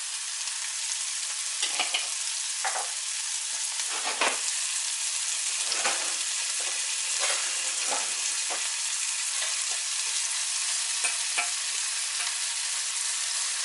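Chanterelle mushrooms fry in a pan with thyme, producing a loud, even hiss of sizzling with periodic stirring scrapes and clacks, close by and uninterrupted by speech.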